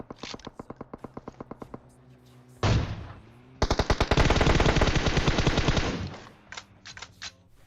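Rapid bursts of automatic gunfire in PUBG Mobile, close and loud, with a sustained stretch of continuous shooting in the middle and short single shots around it.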